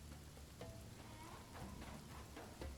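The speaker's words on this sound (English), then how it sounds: "Rain in the desert." Steady rain falling over a desert in the video game Hytale, a faint continuous patter of scattered drops with a few soft brighter taps, quiet and alone.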